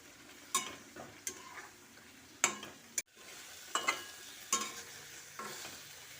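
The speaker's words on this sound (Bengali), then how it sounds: "মশলার সঙ্গে মাছটা একটু ভালো করে কষিয়ে নিচ্ছি।" Hilsa fish coated in salt, turmeric and chilli being stirred with spices in a pan, a soft sizzle under irregular scraping and tapping of a spatula against the pan, quiet and close.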